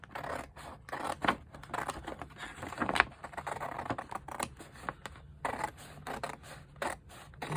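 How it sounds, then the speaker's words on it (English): Scissors snip paper into journaling cards for a handmade Hansel and Gretel journal, with rapid, close, crisp cuts in a steady irregular rhythm throughout. "we'll just cut these up for journaling cards."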